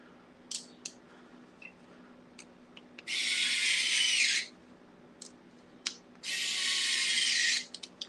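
A powered driver sinks screws into a Tamiya CC-02 RC car chassis, running in two long, steady whirring bursts close by, with small clicks and taps of handling in between.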